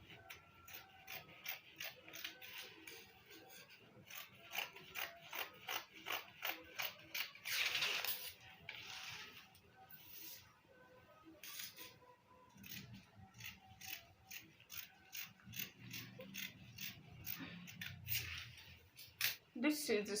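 Scissors cut out fabric for an A-line gown, making rapid repeated snipping clicks in irregular bursts, with faint talking nearby.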